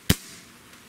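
A Sentry PCP air rifle's trigger breaking as a Lyman trigger gauge pulls it, a single sharp close click followed by a short fading ring and then quiet.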